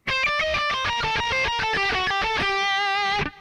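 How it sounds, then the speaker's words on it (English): Acoustic guitar rips through a fast descending triplet run in a metal style, a rapid cascade of bright picked notes played alone, ending on a ringing held note. "So I did a descending kind of triplet"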